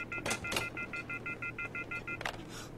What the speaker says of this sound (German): Ist es das Telefon, was hinten im Büro liegt?